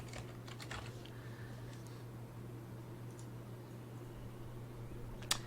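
Typing on a computer keyboard while building a landing page in the Divi page builder: soft, scattered key clicks over a steady low hum, with a sharper tap near the end.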